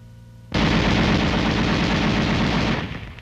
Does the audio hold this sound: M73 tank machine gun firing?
yes